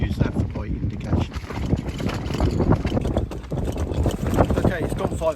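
Strong wind rumbles and buffets the microphone continuously at Salthouse in December, loud and close, with faint voices mixed into the blustery noise.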